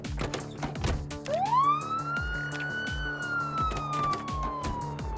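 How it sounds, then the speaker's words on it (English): A car siren in the game Project Zomboid winds up and holds a wailing tone over game music with a thumping rhythmic beat. "turning on this car's siren to draw everything nearby"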